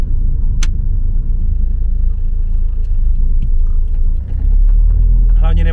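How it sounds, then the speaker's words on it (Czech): Nissan S15 Silvia, lowered and without a loud exhaust, rumbling along a road as heard from a following car: a continuous deep low drone with a brief swell near the end and faint rattles on top. "To auto, jak si vibuje po cestě, to je neskutečné."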